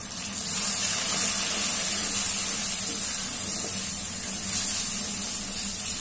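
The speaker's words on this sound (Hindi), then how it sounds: "मसाला माशाल्लाह बहुत अच्छे तरीके से फ्राई हो गया।" Masala spices of turmeric and red chili frying in a pan for moringa chicken, a continuous loud hissing sizzle that swells and eases slightly, alone without talk.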